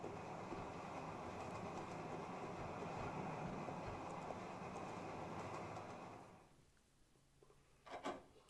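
A train in Resident Evil 0 rolling along rails with a continuous rumbling clatter that fades out near the end, followed by a couple of brief knocks.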